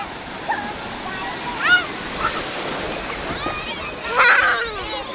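Sea waves roll onto the beach at Murudeshwar in Karnataka, a continuous wash of surf with splashes swelling twice as children shout and chatter nearby.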